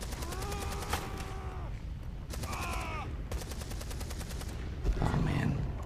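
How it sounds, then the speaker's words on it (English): Rapid gunfire bursts in the video game Beyond Two Souls, with repeated sharp shots in clusters over music and effects, loud and close. "Okay, so some guns got shot."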